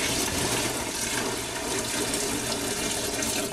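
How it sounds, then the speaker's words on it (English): Boiled water poured from a pot into a home-brewing bucket of corn sugar for an Irish stout, a loud, steady rushing splash that continues unbroken for several seconds. "now we're going to pour in about a gallon, maybe not quite a gallon, but of hot or of boiled water."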